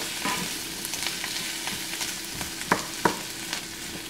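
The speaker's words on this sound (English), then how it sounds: "red onions, green peppers, and the cooked chickpeas. We're going to saute them for about 5 minutes on a medium heat." Red onions, green peppers and cooked chickpeas sauté in a pan over medium heat, with a soft, steady sizzle and a few sharp clicks as the pieces are stirred.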